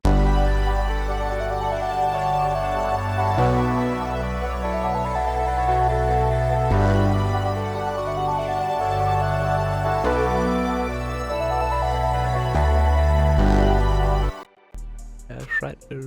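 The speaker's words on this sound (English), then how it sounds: "And all together it's gonna sound like this." A synthetic trap beat built in FL Studio, with a booming Serum bass under bright, dense synth layers and steady drums, playing loud and continuous before cutting out abruptly near the end.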